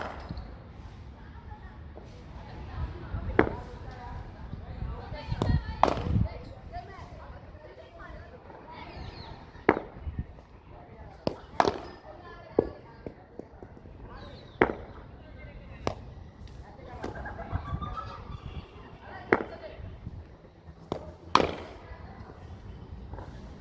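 A cricket bat strikes a ball in a square cut demonstration outdoors, giving a series of sharp, isolated cracks spaced several seconds apart over low background murmur and occasional talk.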